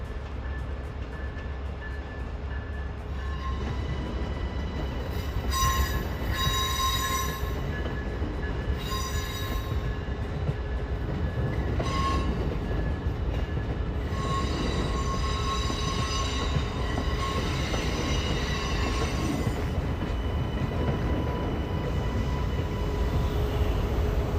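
A next-generation Amtrak train pulls out of Washington, D.C. station bound for New York, with a steady rolling rumble and repeated high wheel squeals rising and fading over the run.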